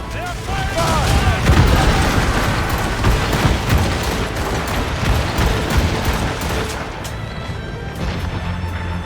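Naval cannons fire a broadside in Assassin's Creed Rogue as a heavy rolling volley of booming shots and crashes, with shouted crew orders under the din.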